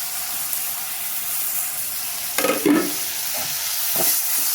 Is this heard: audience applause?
no